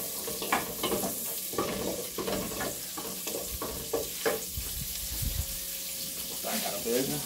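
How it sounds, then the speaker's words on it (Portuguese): Garlic browns in butter in a pan, giving a continuous sizzle with stirring scrapes, and faint running-water sounds come and go in the background. "Dá uma douradinha no alho aqui, tá? Aqui hoje nada de óleo, é só na manteiga aqui hoje"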